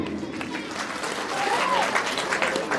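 Audience applause at a madrasa's golden jubilee ceremony, a dense wash of clapping that holds steady and swells slightly toward the end, with a faint voice briefly rising above it.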